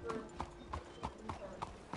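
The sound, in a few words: horse hooves clip-clopping in video game Red Dead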